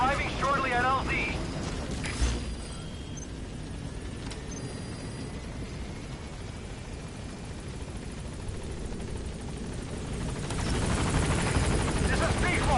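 Helicopter in the video game Metal Gear Solid V arriving at a landing zone, a steady broadband rotor rumble that grows louder toward the end, with game voice chatter over it at the start.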